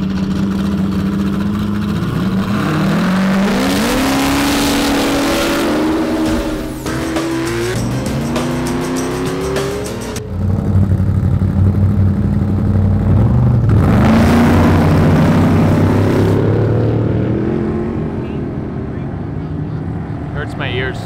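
Off-road race trucks at the Mint 400 near Las Vegas roar and rev loudly and continuously, engines rising and falling in pitch, with a brief lull midway before another surge; people talk underneath.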